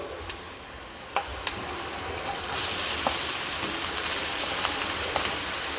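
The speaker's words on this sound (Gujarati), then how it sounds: "અહીંયા થોડી જ વારમાં મરચાં સરસ સંતળાઈ ગયા છે, તો ગાજરનું છીણ ઉમેરી દઈશું." Green chillies with grated carrot sautéing in a hot pan for a Gujarati carrot sambharo, a steady close sizzle with occasional stirring clicks, growing louder and denser midway; no talking.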